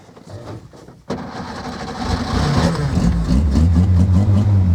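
A vintage Simca 5 car engine fires up sharply after a quiet moment, then settles into a steady, close, loud running rumble that builds slightly in intensity.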